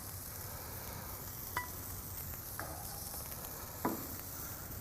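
Asparagus being lifted off a hot Weber grill: a quiet, even sizzle runs throughout, broken by three light clicks and scrapes as pieces are pulled away.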